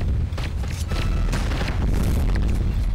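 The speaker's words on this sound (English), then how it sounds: "So now I can shoot with my left mouse button, like this." A heavy boom from a tank cannon firing in the online game Tanki Online, a deep low rumble sustained under the scene with no talking.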